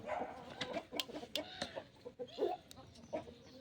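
Hens clucking on a farm, a run of short, quiet, uneven clucks and calls close by, with scattered sharper notes and no voices.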